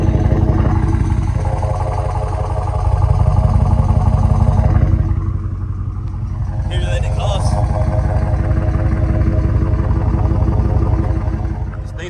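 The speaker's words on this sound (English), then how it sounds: "Let y'all hear that exhaust." A deep, steady exhaust rumble from a 2022 Dodge Charger R/T idles close by for several seconds, with a brief clatter partway through and a voice talking over it at times.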